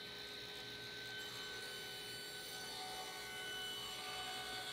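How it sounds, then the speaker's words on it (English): Padauk, an African hardwood, is ripped into strips on a saw, giving a steady, faint grinding rasp with a thin machine whine that runs unbroken throughout. "what I'm doing is cutting down some paddock in African hardwood"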